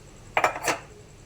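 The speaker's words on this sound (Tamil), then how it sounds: "ஆன் பண்ணி பாத்திரத்தை அடுப்பில் வச்சுக்கலாம்" Metal cooking pot set down on a kitchen stove, a quick cluster of two or three clanks and rattles close by, then quiet.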